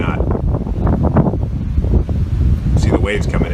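Pretty strong wind blowing outdoors in Guam near the ocean, a steady low roar and mic buffeting throughout while someone speaks.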